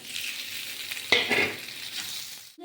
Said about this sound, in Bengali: এবার না তেলেই দিয়ে দিলাম একটু কালো একটা পেঁয়াজ কুচি, কাঁচা লঙ্কা কুচি।